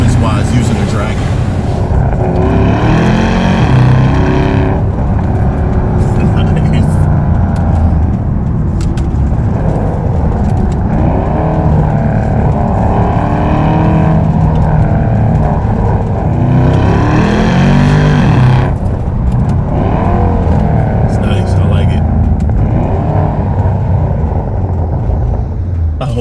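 Porsche Panamera turbo engine fitted with an aftermarket exhaust, a loud continuous rumbling drone with swells of revving and acceleration throughout, heard up close while driving.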